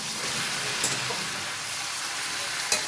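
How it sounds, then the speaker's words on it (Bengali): Chicken pieces fry in a pan for a lemon chicken dish, a steady bright sizzle with a couple of faint scraping stirs, close and continuous with no talking. "চিকেনটাকে তো ভালোভাবে নেড়ে নিচ্ছি।"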